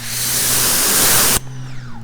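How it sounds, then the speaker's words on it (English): Detail spray misted from a trigger bottle during a car wash, a loud continuous hiss lasting over a second that cuts off abruptly, leaving quiet background hum. "That's detail spray."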